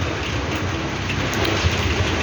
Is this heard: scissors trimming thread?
no